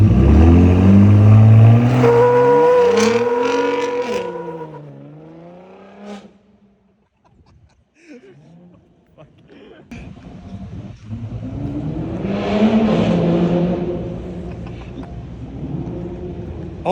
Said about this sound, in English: it sounds like a GTR